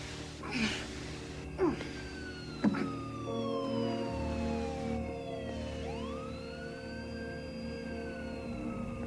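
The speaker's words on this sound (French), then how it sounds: "J'ai entendu une sirène de police." A police siren wails in rising and falling sweeps, fairly distant and faint under a steady low background rumble, with a few brief knocks early on.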